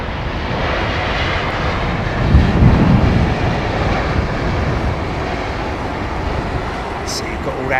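An airliner lands at London Heathrow Airport, its engines a steady, loud broadband roar with a swell midway, continuous throughout.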